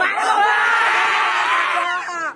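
Cinema audience in Kirtipur hooting and cheering loudly, a dense burst of raised voices and whoops that holds for about two seconds before tapering off.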